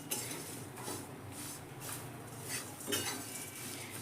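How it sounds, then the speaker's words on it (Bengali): Flattened rice (chira) is stirred as it fries in a pan, making a continuous soft scraping and rustling with a spoon scraping against metal at irregular intervals, close and moderate in level, without speech. "আমি খুব ভালো করে কিন্তু এটাকে এবার নেড়ে নিচ্ছি"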